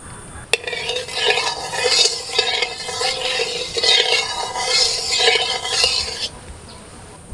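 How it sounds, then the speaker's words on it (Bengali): Boiled potatoes frying in mustard oil in a wok give a steady, bright sizzle with rhythmic swelling bursts as they are stirred, close and loud, after a sharp clink at the start. "আলুর জলটা ভালো করে ঝরিয়ে নিয়ে এখন তেলের মধ্যে আমি আলুগুলো দিয়ে দিচ্ছি।"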